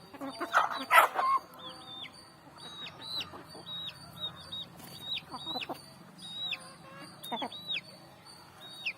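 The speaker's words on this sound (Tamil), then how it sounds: "இதெல்லாம் எங்கள் வீட்டில் வளர்க்குற கோழிகள், வீட்டுக்கோழிகள்." Free-range country hens raised at home and fed rice cluck steadily nearby, with one louder burst of clucking at the start and high bird chirps scattered over the background.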